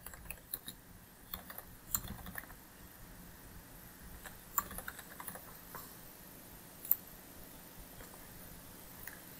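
Quiet, close keystrokes tap out a project location on a computer keyboard in irregular bursts of clicks, with a few sharper key presses standing out against a hushed room.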